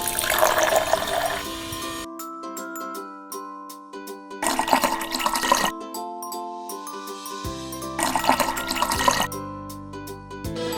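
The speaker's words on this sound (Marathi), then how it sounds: "आता पुरेसं पाणी टाकून घ्यायचं आहे आपल्याला त्यामध्ये।" Water poured into a pot of drumsticks with coriander and green chili for soup, in three bursts of splashing and gurgling, with steady musical tones playing alongside.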